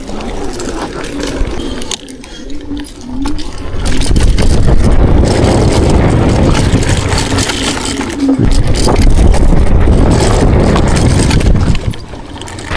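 Motocross dirt bike engine while riding off-road: loud, rough motor roar that rises and falls with the throttle, mixed with wind buffeting and rattling, nearly continuous.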